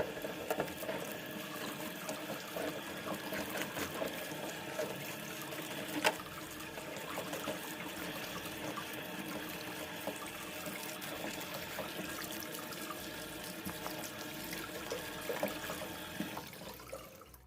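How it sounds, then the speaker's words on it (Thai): Holy basil leaves and assorted mushrooms are washed under running tap water, a steady close splashing and trickling flow that lasts throughout with a brief louder splash partway. "นำใบกะเพรามาล้างให้สะอาดดีเลยนะคะ เอาเห็ดต่างๆมาล้างต่อเลยค่ะ"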